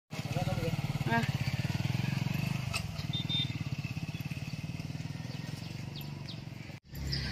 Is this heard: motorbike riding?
yes